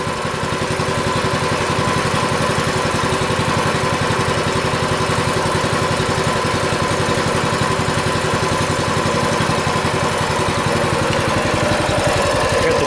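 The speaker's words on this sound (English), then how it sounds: "Looks to be idling pretty normal." Steady, even idle from a freshly started Massimo MB200 mini bike engine warming up, a close, continuous chugging drone that holds unchanged throughout with no one speaking.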